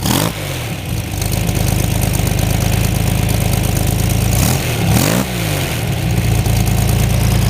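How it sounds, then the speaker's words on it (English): A Corvair 95 with Yenko Stinger badging, its flat engine idling steadily and loud close by, with a couple of brief dips and blips in the running. "Sound of a smooth running Corvair 95"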